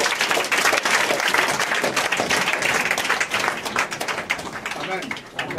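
A church congregation applauding together, with dense, loud, sustained clapping that thins slightly toward the end, while voices call out over it.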